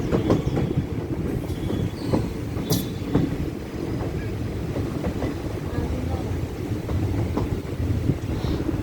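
A passenger train runs on the Sengottai line between Kerala and Tamil Nadu, heard from on board as a continuous loud rumble with rhythmic clickety-clack of the wheels and occasional faint squeals.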